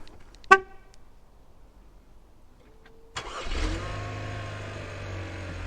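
A short horn chirp sounds, then after a pause a 2016 Chevrolet Cruze engine, with newly replaced spark plugs, is remote started, cranking and catching quickly and settling into a steady idle rumble.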